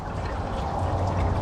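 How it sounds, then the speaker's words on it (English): Water pours steadily into the radiator of a 1966 Ford Thunderbird that has sat for years, a continuous close, full gurgling rush with no break. "I'm going to put some water in it just to make sure"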